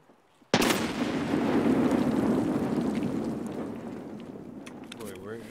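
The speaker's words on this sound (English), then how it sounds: "He's throwing nades back at me." A sudden loud grenade blast in the shooter video game Escape From Tarkov bursts out after near silence, then a long rumbling, crackling roar slowly fades over several seconds.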